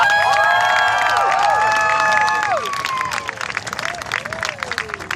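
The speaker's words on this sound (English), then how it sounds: "Let's give all the horses a round of applause" Crowd applause and cheering at a live jousting show, with loud tonal whistles or shouts over the clapping early on, then thinning into scattered claps and voices.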